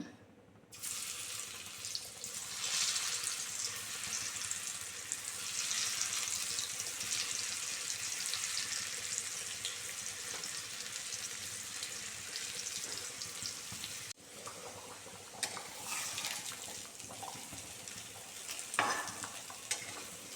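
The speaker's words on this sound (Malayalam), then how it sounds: "എണ്ണ ചൂടായി വന്നിട്ടുണ്ട് നമുക്കിത് ഞാൻ പൊരിച്ചെടുക്കാം" Bitter gourd pieces coated in rava fry in hot oil with a continuous crackling sizzle, fairly quiet, with a short break partway and some stirring scrapes near the end.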